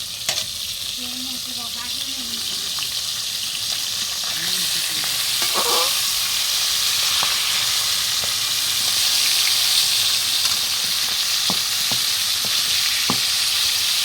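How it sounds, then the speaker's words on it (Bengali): Large pieces of rohu fish fry in a pan with a loud, steady, close sizzle that crackles and hisses throughout without a break. "আর রুই মাছটা ভাজা হচ্ছে"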